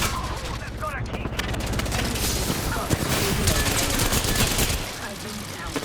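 Rapid bursts of video game gunfire crackle and boom continuously, dense and loud throughout, with a heavy weapon kicking under the din.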